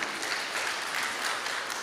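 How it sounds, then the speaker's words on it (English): A group clapping for themselves after singing together, a brief, dense burst of many hands at a steady level, close by and without talk. "Can you clap for yourselves?"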